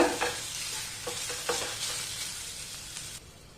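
Moringa leaf stir-fry being stirred in a hot pan, with a soft continuous sizzle and several scraping strokes of the spoon close by, quieter toward the end.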